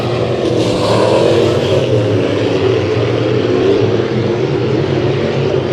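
Dirt track race cars, six in single file during a heat race at KCRP, roaring with a steady loud engine drone that holds throughout, revving rising slightly near the start with no pauses.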